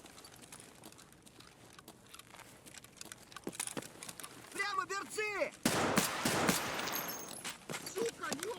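Gunfire in the Escape from Tarkov video game, scattered single shots building into a louder burst of rapid fire midway, heard over faint background rustle and clicks.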